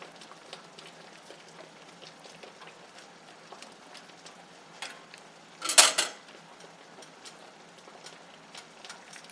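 Chunks of pork dropped back into a pan: faint scattered clinks and taps of cookware, with one louder clatter of a utensil against the pan midway, and no talking.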